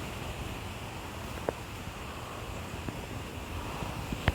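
Strong wind buffets a narrowboat, a steady broadband roar of gusts and microphone wind noise with a few faint knocks, sustained throughout.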